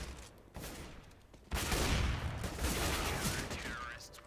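Rapid bursts of gunfire in Counter-Strike: Global Offensive crackle loudly after a quieter start, a dense volley of shots with game-like mechanical clatter, no voices.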